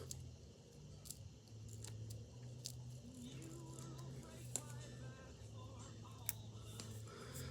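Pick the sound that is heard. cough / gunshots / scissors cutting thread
scissors cutting thread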